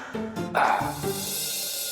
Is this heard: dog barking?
yes